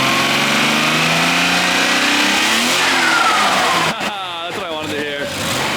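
Close, loud revving from a Nissan R33 with a swapped RB25DET engine, pitch climbing steadily before dropping off, then several quick blips of the throttle.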